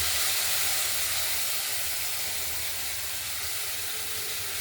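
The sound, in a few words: poppy seed paste added to frying potatoes and okra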